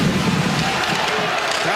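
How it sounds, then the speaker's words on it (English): Hockey crowd at the 2024 Memorial Cup round-robin game between the London Knights and Saginaw Spirit, a steady roar of cheering filling the arena without a break. "Crowd getting into it early."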